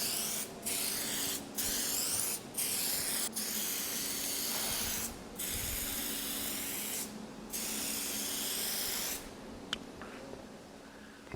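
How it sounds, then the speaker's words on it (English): Short bursts of aerosol contact cement spraying onto a laminate countertop, a steady hiss broken by brief pauses, with a low background hum underneath throughout. "I just spray it"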